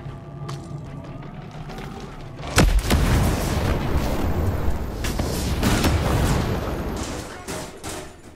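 Grenades explode in the video game Ghost Recon Breakpoint, with a sharp, loud blast followed by several more booms and crackling gunfire-like bursts over several seconds.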